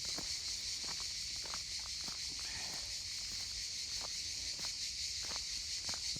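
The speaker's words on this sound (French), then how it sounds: "Ah, il y a les cigales qui chantent." A continuous high-pitched buzzing drone of cicadas fills the background in a forest at Roquefort-la-Bédoule, with scattered soft footsteps or crunches nearby.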